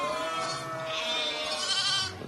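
Sheep and lambs bleat on a farm during lambing, with one drawn-out wavering bleat up close and other overlapping calls behind it, moderately loud and with no talking.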